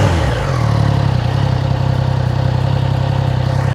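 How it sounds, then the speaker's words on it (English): A Triumph Trident 660 with a Yoshimura AT2 exhaust idles loudly with a deep, raspy, pulsing rumble, steady throughout before cutting off abruptly. "So this is the Yoshimura AT2 exhaust."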